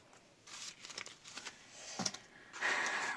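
A small paper surprise packet is handled close by, with soft rustling and crinkling in short bursts, a brief tear-like crackle, then a louder sustained crumple at the end.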